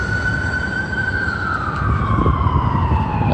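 An ambulance siren wails through city traffic, a loud, close, sustained tone that slowly falls in pitch over a rumble of passing vehicles on the street.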